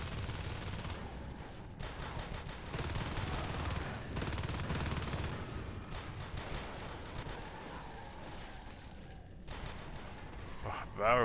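Rapid pistol shots in the sci-fi shooter Natural Selection during a competitive alien-versus-marine match, bursts of gunfire in quick succession with other game sounds and a commentator talking over them.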